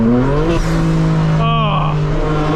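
A 2025 BMW M4 Competition xDrive downshifting to second gear on a night drive: steady engine drone, then a quick sharp rev blip that swoops up and settles, heard loud from inside the car.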